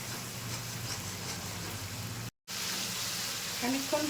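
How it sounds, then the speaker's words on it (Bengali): Cumin powder and red chili powder fry in oil in a pan for a kabuli chickpea curry. A soft, steady sizzle is heard at low volume, broken by a brief silent gap, with faint clinks near the end. "জিরে গুঁড়ো দিয়ে দিচ্ছি, রেড চিলি পাউডার। এটাকে ভালো করে কষিয়ে নেব।"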